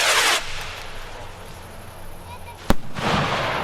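Fireworks boom and crackle outdoors, one sharp loud bang standing out amid bursts of fizzing and rumbling.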